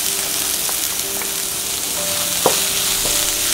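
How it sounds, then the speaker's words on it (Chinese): Dried radish fries in a pan with green garlic, scallion and seasonings, sizzling steadily at close range, with a few clicks and scrapes of a spatula stirring it and no talking. "要先把萝卜干跟配料一起炒香，并且调味"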